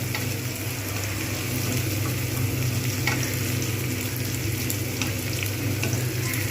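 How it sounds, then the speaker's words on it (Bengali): Onions with whole garam masala fry in a pan for mung dal with rohu fish head: a continuous, close sizzle with crackles and light stirring, no voices. "আর একটু ভাজবো পেঁয়াজগুলো"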